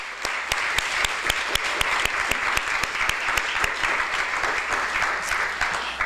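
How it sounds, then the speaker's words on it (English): Audience at a Rutgers University Alumni Association meeting applauding, with a steady, sustained wash of many hands clapping and sharp individual claps standing out throughout, no voices. "Let's have another round of applause for all we've achieved this year."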